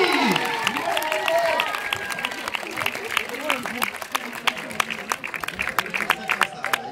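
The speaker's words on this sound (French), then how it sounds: "je vous demande un tonnerre d'applaudissements pour monsieur Ryan Bensetti" An audience at a Let's Dance event in Toulouse applauds Rayane Bensetti. Crisp, scattered claps run throughout under a speaking voice and general crowd murmur.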